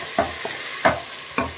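Finely chopped onions with green chillies and ginger-garlic-cumin paste frying on full flame for Hyderabadi mutton masala curry, a constant sizzle with three short stirring scrapes, close up and without speech.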